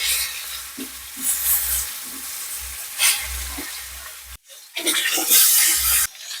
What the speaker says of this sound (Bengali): মাছগুলোকে উল্টে নিচ্ছি উল্টে পাল্টে ভেজে দেবো